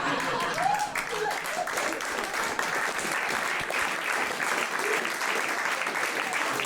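Steady, dense audience applause at a live stand-up comedy show, sustained and even throughout with a crowd murmur underneath, heard from the midst of a large room.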